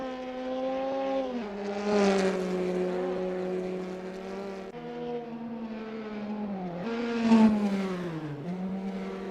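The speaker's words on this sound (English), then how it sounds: "As the sun beats down and the engines roar, Martin Tuib stakes a claim in third." Opel GT Gr4 race car engines roar continuously in Assetto Corsa sim racing at the Milan Castello track, with steady droning tones that rise and fall through gear shifts, two distinct revving surges, loud and close.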